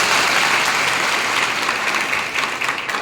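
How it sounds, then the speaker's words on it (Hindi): Loud, continuous clapping from a crowd of Gondwana Gantantra Party workers at a local political meeting, cheering a party district member; dense and steady throughout with no talk over it. "इनके लिए जोरदार ताली बजाओ।"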